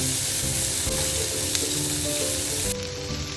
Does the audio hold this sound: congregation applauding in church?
no